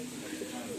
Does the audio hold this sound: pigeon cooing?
yes